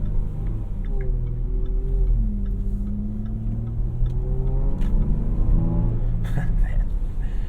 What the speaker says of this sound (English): that engine sounds awesome